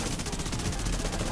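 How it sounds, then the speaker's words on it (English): Dense, steady gunfire from The Division 2, rapid automatic shots blurring into a continuous loud burst with no pauses across the moment. "Did that man just get shot?"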